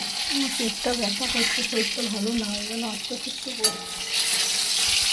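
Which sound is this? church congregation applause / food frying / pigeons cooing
food frying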